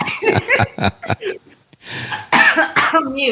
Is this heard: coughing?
yes